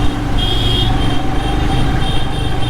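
Heavy road traffic heard from a moving motorbike on the way toward Gangtok, Sikkim: a constant loud rumble of engines and road noise, with a horn sounding briefly and again toward the end.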